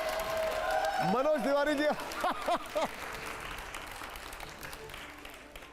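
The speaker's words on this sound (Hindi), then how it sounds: "जोरदार तालियां हो जाए एक बार" Studio audience applause runs through the whole stretch, a dense clapping wash under a voice speaking loudly over it.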